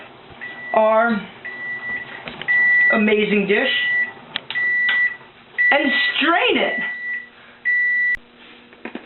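A kitchen timer beeps in short repeated bursts while a broccoli stem dish is cooked, the beeps breaking up steady talk from a nearby speaker.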